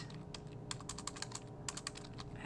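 Quick bursts of typing on a computer keyboard while entering data into a Google Sheets chart, crisp close key clicks in two short rapid runs separated by a brief pause, with no talking.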